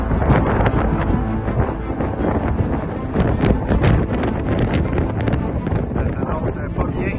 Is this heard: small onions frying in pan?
no